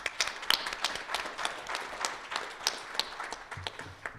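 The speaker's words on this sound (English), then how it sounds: "So I just want to stop and give ourselves a round of applause for that." Scattered clapping from a small group at a student senate meeting, quiet and uneven, with a voice briefly starting at the end.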